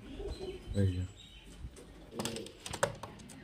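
Highflyer pigeons cooing nearby, soft throaty coos and a few chirps spread across the moment, with brief rustles that may be wing flaps, fairly faint and alone.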